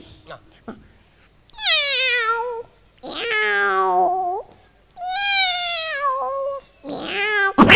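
A mimicry artist on stage in Dubai imitates two cats fighting with a series of long, wavering yowls and screeches, four drawn-out cries separated by short pauses.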